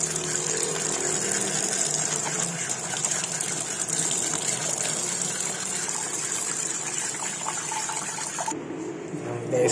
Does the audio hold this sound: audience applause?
no